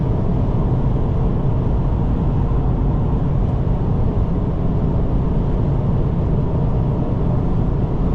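A stock Subaru WRX drives at night, its steady engine drone and road rumble loud and continuous from the cabin with no voices.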